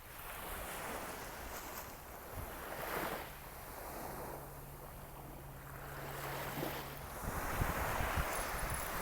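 Ocean waves break on a shore in slow, rolling surges of broad wash, mixed with gusty wind buffeting the microphone, fairly close with no voices.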